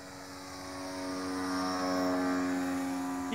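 A twin tri-wing RC canard model airplane flies overhead, its small electric propeller giving a steady tonal whine that swells slightly louder as it approaches, heard alone without talk.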